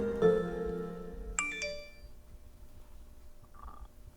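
Mobile phone message notification, a bright two-tone chime ringing out over a soft hum, then fading into quiet room tone with a faint later blip.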